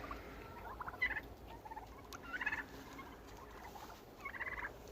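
Three rattling gobbles from an old turkey tom, spaced a second or so apart, moderately close, over faint background noise.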